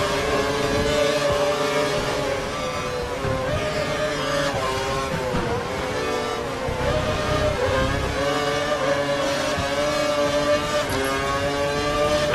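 A Formula 3 race car engine held at full revs in a racing video game, a loud, steady high-pitched whine that sustains without letup, with the pitch wavering slightly as the car runs flat out.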